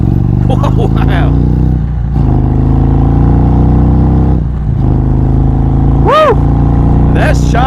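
A 2021 Indian Roadmaster motorcycle in sport mode pulls hard in second gear, its loud engine drone steady and close with rising harmonics, briefly dipping and surging again while a rider's voice exclaims over it.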